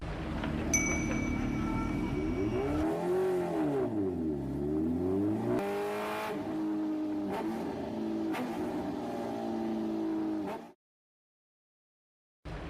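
Heavy motorbike engine revving hard, a rare imported model, rising and falling pitch through repeated throttle sweeps, loud and close, then cutting off abruptly near the end.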